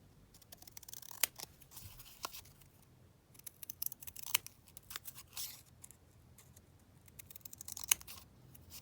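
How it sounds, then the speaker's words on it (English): Quiet, crisp snipping of hair thinning scissors through paper, several irregular cuts with short pauses between them, close by. "let me just get my hair thinning scissors."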